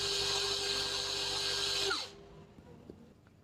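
A Skoota DTD 173 impact driver runs at speed 3 with a steady high-pitched motor whine for about two seconds, then spins down and falls quiet. It is close and there is no talking.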